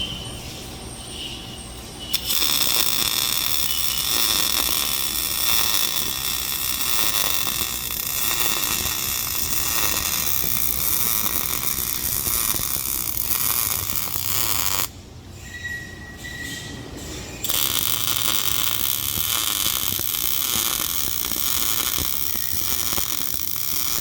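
Continuous loud hiss and crackle of welding inside a lowrider rear end axle housing, running almost unbroken for over twenty seconds with a few brief pauses.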